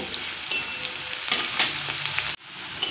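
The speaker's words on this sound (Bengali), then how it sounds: "দিয়ে দেব কালারের জন্য হলুদ, দিয়ে পেঁয়াজটা একটু ভাজা হতে দেব।" Minced onion with turmeric frying in a pan for a patol kofta curry, a bright continuous sizzle with sharp stirring scrapes and clatters, cut off abruptly near the end; no talking.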